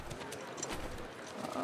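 Shimmer the horse's hooves clip-clop softly in The Last of Us Part 2, a quick, faint run of hoofbeats nearing against a low background.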